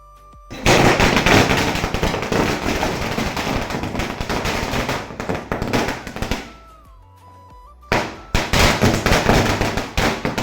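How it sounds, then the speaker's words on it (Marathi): A 1000-count string of firecrackers (ladi) bursts in a dense, loud, rapid crackle for several seconds, pauses briefly, then erupts again into another rapid volley. "आपल्या बोरसर येथून आणलेल्या फटाक्याच्या स्टॉक मधून 1000 वाली लढी काढली फटाक्याची"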